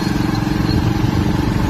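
A motorcycle engine runs in a steady, close rumble on a waterlogged road flooded along its whole length, with boats nearby, and keeps up an even drone throughout.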